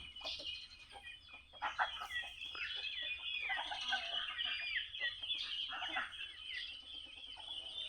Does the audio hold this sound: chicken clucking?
yes